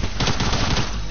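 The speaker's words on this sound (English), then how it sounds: "And we're getting shot at." Rapid, loud machine-gun bursts in a video game rattle continuously at close range, a dense stream of overlapping shots with no talking.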